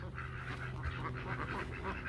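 Farm ducks quack in a short, continuous, close-up flurry of overlapping calls.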